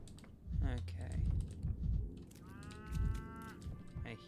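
A cow mooing in the video game Pathologic 3, one drawn-out moo of moderate loudness over keyboard typing and faint talk.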